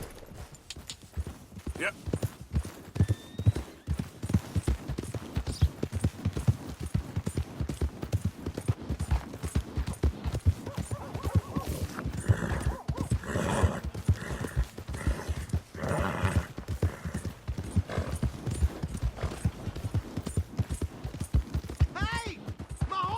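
Horse hooves clip-clop at a steady trotting rhythm in the video game Red Dead Redemption 2, continuous and fairly close, with occasional talk and a whinny mixed in.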